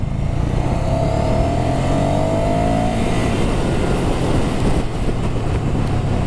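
A 2023 Ducati Scrambler's air-cooled Desmo engine pulling hard under full throttle, a loud, steady roar with a rising tone, heavy wind rush over it as the bike runs on.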